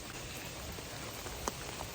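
Hard rain falling on a farm at night, a faint, steady hiss of drops with an occasional louder single drop striking a surface close by.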